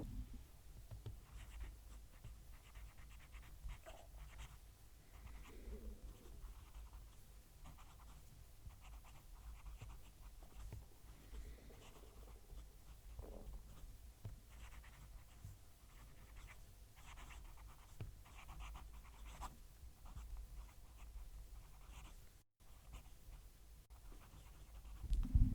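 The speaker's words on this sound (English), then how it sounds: "Let's move the mic and we'll do a writing sample." A Kaigelu 316 fountain pen nib writing on paper with a mic placed close, giving a soft, steady scratchy scribble with faint feedback across the whole stretch, alone and without talk.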